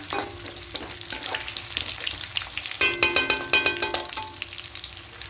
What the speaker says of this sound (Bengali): সেদ্ধ করে হাফ সেদ্ধ করে কেটে রাখা আলুগুলো দিয়ে দেবো দিয়ে এবার হালকা করে একটু ভেজে নেব পেঁয়াজের সঙ্গে